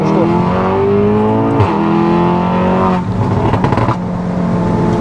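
A customized car accelerating hard, engine revving loud and close with rising tones that drop at a gear change and climb again, a roaring, continuous pull.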